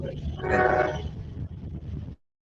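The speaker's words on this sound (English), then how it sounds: "You're near a railroad track." A train passes along a nearby railroad track, heard through a call microphone as a loud rumbling roar with a horn blast that swells and then cuts off abruptly.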